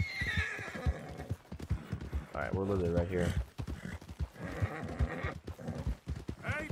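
A horse in Red Dead Redemption 2 whinnies loudly mid-clip amid steady hoof clip-clop, with someone talking over much of it.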